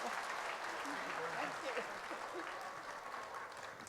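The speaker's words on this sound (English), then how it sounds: "So can we give a big round of applause for Mr." Audience applause at a junior school assembly, a steady wash of clapping from a crowd of children and adults, with faint voices murmuring beneath it throughout.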